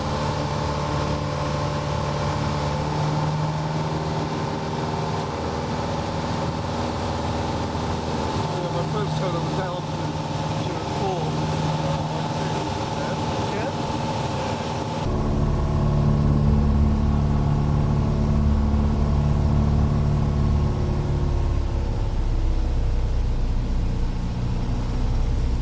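Piper Cherokee single-engine light aircraft in flight over an airfield, with a steady, loud, close droning piston engine that holds a constant tone throughout and grows heavier and deeper partway through.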